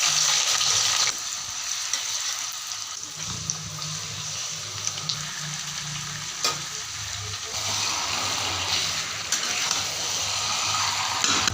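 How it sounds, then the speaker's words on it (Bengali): Bay leaf, cinnamon and cardamom sizzle in hot oil for a duck curry, a steady close frying hiss with occasional stirring clinks, no voices. "এখানে দিয়ে দিলাম তেজপাতা দারচিনি আর ছোট এলাচ"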